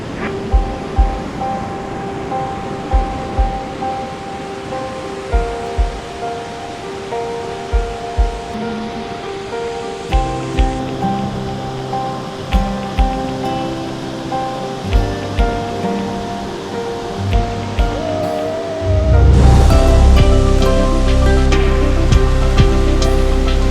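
The Manthokha waterfall in Skardu roars as a loud, steady wall of rushing water, with faint regular footsteps beneath it and the roar swelling louder and fuller near the end as it draws closer.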